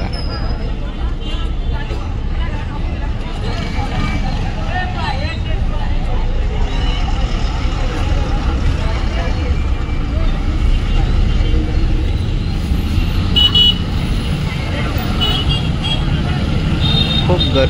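Dense road traffic at a crowded Adivasi Day celebration, flag-decked vehicles packed nose to tail; a steady, loud rumble of engines with a hubbub of crowd voices mixed throughout.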